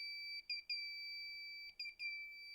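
A thin, high electronic tone from an active buzzer on an Arduino beeps steadily, briefly cutting out a few times in quick pairs before resuming, alone in a quiet room.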